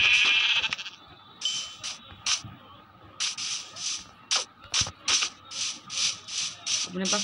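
Sheep bleat in a village-themed video game, a run of short, repeated calls at an uneven pace, fairly close and heard without talk, preceded by a brief hissing burst.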